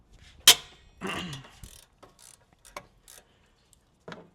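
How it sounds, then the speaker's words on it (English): A 19 mm wrench working the brake caliper bolts on a Nissan 350z, a sharp metallic crack followed by scattered faint clicks and ratcheting taps in a quiet space. "we're going to start off with a 19 wrench, and there's going to be 2 caliper bolts back here, and we're going to loosen those"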